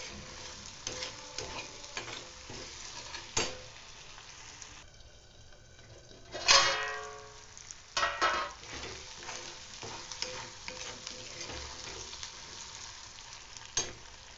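Masala paste stirs and fries in oil in a pan, a quiet steady sizzle broken by spoon scrapes and clinks, with a brief louder burst of frying near the middle and no voices.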